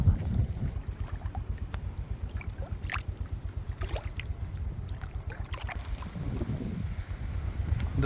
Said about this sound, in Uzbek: Mana bugun havo shu juda ham kuchli shamol, afg'on shamoli.